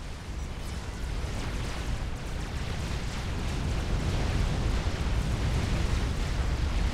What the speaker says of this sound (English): A lot of explosions back here.